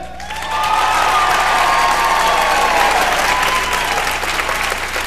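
Loud, sustained audience applause for a dancer at a rock and roll dance party competition, a dense crowd clapping that swells quickly and holds steady before easing slightly at the end.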